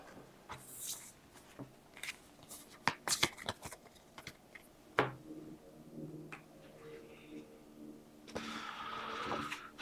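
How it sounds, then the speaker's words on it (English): Avatar: The Last Airbender: Aang's Destiny game cards being shuffled by hand, a run of crisp riffling and tapping bursts close up, with quiet handling noises between them and a brief louder shuffle near the end. "Shuffle them up."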